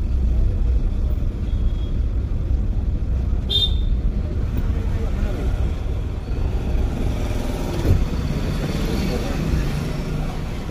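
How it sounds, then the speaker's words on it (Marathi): Vehicles creeping slowly through a narrow lane, heard as a steady, close, low engine and road rumble that runs unbroken throughout, with no clear horn or pass-by standing out. "इथं आतमध्ये बोळी बाळीने लय जपून गाड्या चालू लागतात."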